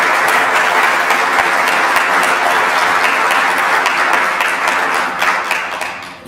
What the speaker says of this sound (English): give these people a round of applause and thanks.